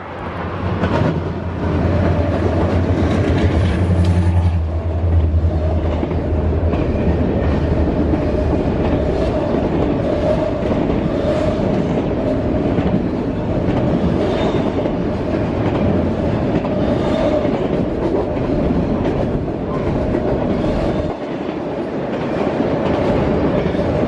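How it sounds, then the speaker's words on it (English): A westbound intermodal freight train passes near Conway, Pennsylvania, with a loud, continuous rumble of rolling cars and rhythmic wheel clatter that holds steady for the whole span, and a diesel locomotive drone early on. "unidentified westbound intermodal bypassing Conway"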